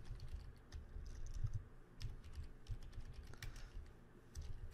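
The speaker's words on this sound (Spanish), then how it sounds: "Hago un clic y simplemente digito que esta cotización tiene una vigencia" Computer keyboard typing in a business-software session, a steady run of quiet, irregular key clicks against a soft background hum with no talking.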